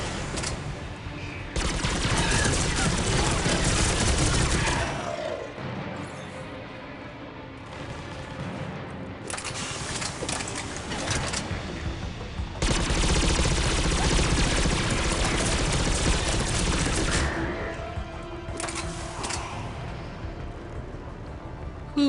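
Gunfire in the video game Mass Effect 3 comes in long, dense bursts of loud rattling shots, two extended volleys separated by quieter stretches of lingering combat noise.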